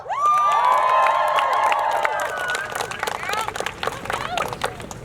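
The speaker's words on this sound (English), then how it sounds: "Give him a round of applause." An outdoor climate protest crowd on a university quad breaks into cheering and whoops with scattered clapping, loud and close, the shouts fading into irregular applause.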